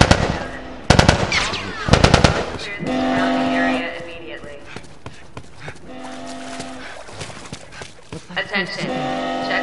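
Gunfire in the video game The Last of Us: several sharp rapid bursts of shots mixed with shouting character voices, tense background music and other game effects.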